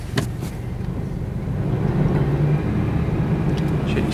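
A freshly started old, high-mileage car engine, smoke pouring from the exhaust, runs with a steady low rumble that grows slightly louder and holds, heard close with no talk.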